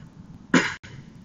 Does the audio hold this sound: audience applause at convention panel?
no